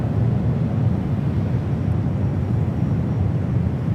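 A Porter Embraer E2 jet departing San Francisco airport gives a steady, dense low rumble with a rough wind-like roar, heard from a distance and continuous throughout, without any talking.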